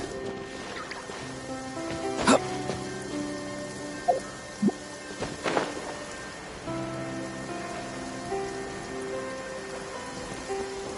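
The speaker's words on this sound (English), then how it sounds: "If I fly, the rain will make my cape too heavy." Steady rain falls on surfaces in Genshin Impact, a soft constant patter under a layer of sustained musical tones, with a few sharper accents.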